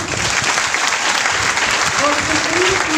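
A crowd at a teachers' honour ceremony applauds the teachers, with a loud, continuous wash of clapping from many people sustained throughout and a voice rising briefly over it near the end.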